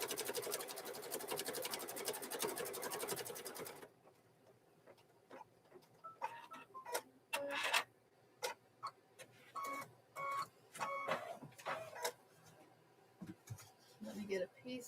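Sewing machine running a placement stitch through quilt batting for a mug rug, a steady close whir for about four seconds before it stops, followed by scattered clicks and handling noises.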